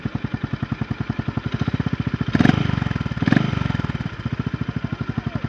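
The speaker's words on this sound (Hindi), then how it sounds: "आपको पहले आइडल आवाज़ सुनाता हूँ।" A Honda CB 350 RS motorcycle idles close by, its exhaust thumping in a steady, even pulse, with two short blips of the throttle in the middle before settling back to idle.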